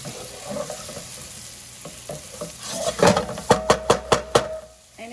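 Potatoes and onion sizzle in a pan while a spoon stirs, with a run of sharp, evenly spaced scraping knocks against the pan building louder toward the end.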